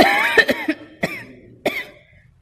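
A girl coughs on stage in a Malayalam play. A brief voice comes first, then three or four sharp, close coughs spaced about half a second apart, with quiet between them.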